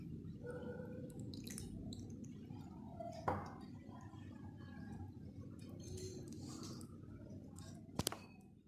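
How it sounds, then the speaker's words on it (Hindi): Four tablespoons of cornflour are stirred into a quarter cup of cold water, giving soft wet sloshing and squishing with a couple of sharp clicks of a spoon against the bowl, close and fairly quiet. "4 टेबलस्पून कॉर्नफ्लोर है और इसको 1/4 कप पानी के साथ अच्छी तरह से मिक्स कर लेती हूँ"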